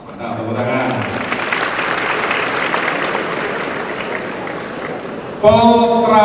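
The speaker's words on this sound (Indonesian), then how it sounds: "Mantap, tepuk tangan." An audience of transport college graduates breaks into sustained applause, a broad steady wash of clapping lasting several seconds before a voice cuts in.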